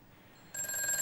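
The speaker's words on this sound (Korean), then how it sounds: "그럼 이어서 다음 전화 연결해 보도록 할게요." Telephone ringing on a TV stock-advice call-in show as a viewer's call is being connected, a bright electronic ring starting partway through and continuing steadily at moderate volume, with no talking.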